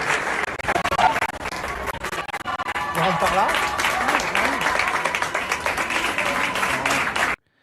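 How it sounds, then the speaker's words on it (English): A crowd keeps up steady, dense applause and cheering, with voices and some tonal calls mixed in before it cuts off abruptly. "Lots of cheering and all the rest of it."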